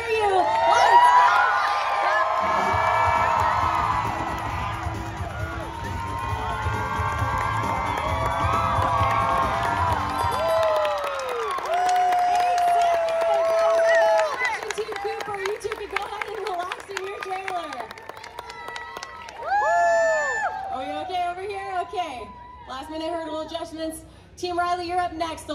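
Audience at a Universal Studios Hollywood animal actors show cheering for a dog, loud sustained crowd shouting and children's yells that fade after about ten seconds into scattered excited voices, squeals and an amplified host talking.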